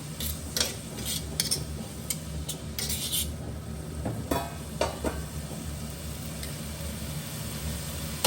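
Thawed frozen vegetables stir-frying in a pan, with a steady low sizzle and scattered clinks and scrapes of a utensil against the pan at close range.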